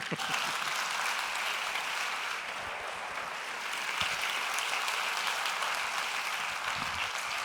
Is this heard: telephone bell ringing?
no